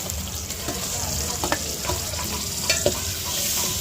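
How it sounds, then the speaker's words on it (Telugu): Ginger-garlic paste frying in a home kitchen pan, a steady hiss of sizzling oil with a few scattered clinks and scrapes of stirring over a continuous low background. "వెల్లుల్లి పేస్ట్ చేసుకొని పచ్చివాసన పోయేదాకా ఒక రెండు నిమిషాలు ఫ్రై చేసేసుకోవాలి"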